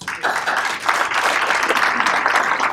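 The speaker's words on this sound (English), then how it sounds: "I want to give all of you applause for being here" Applause from guests at a police athletic league breakfast with the sheriff, a dense burst of hand clapping that rises quickly and holds steady for a few seconds in a room.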